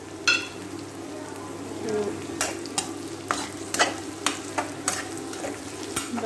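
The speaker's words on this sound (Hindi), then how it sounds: "बस हमारे प्याज ऑलमोस्ट भुन चुके हैं।" Onions and cumin sizzle in a pan for a bitter gourd curry, a low steady frying hiss with a run of crisp clicks and scrapes of stirring toward the end.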